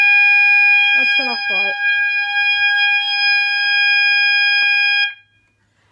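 A mass notification system sounds a loud, steady, piercing siren-like alarm tone during a safety system test. It holds unbroken for about five seconds and then cuts off abruptly, with a brief spoken remark over it.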